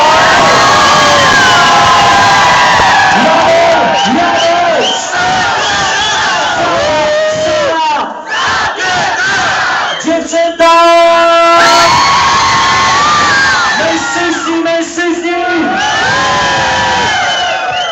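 A loud club crowd at a concert at Blue Star club, sustained cheering, whooping and shouting throughout, with brief dips and surges and tonal whistles or music mixed in.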